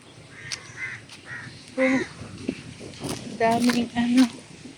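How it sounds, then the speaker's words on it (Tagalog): Several crows caw repeatedly nearby, harsh overlapping calls in bursts, with a person talking in between. "daming ibon guys. Daming ibon doon"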